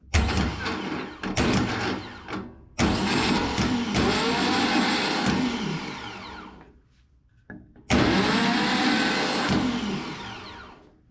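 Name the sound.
car starter motor running on bench test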